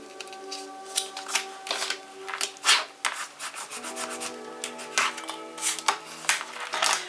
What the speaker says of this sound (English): So we just need to bone fold this over.